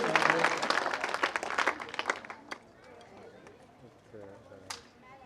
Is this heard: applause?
yes